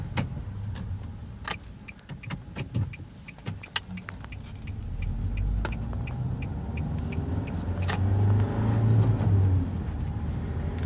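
A 2012 Nissan Sentra SE-R Spec-V with a manual gearbox is being driven. Its steady engine hum and road rumble run through the whole clip and grow a little louder toward the end, with scattered clicks and small cabin rattles over them.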